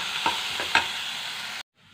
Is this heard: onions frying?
yes